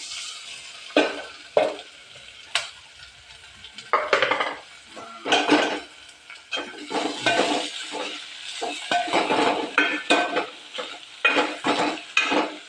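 Washed sprouted legumes frying in a little oil for sambar, bursts of crackling sizzle broken by repeated stirring strokes and clinks of a spoon against the pan, close and fairly loud, no talking.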